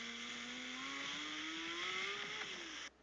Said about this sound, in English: I saw this really nice Porsche GT3 RS. Here is it doing an epic pull.